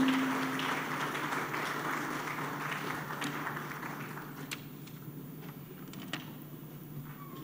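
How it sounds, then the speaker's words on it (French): An audience at an official gathering in Kinshasa applauds a speaker, a sustained wash of clapping that slowly fades to scattered claps and quiet room noise. "Merci pour ces applaudissements qui l'encouragent."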